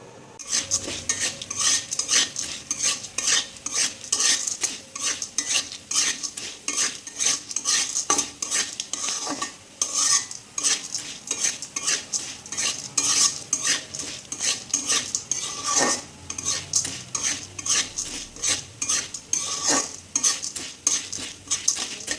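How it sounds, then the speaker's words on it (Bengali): Lentils (dal) dry-frying in a pan are stirred with a utensil, giving rapid, rhythmic scraping and clinking against the metal over a soft sizzle, close and continuous without speech. "আমার ডালটা ভাজা হয়ে গেছে।"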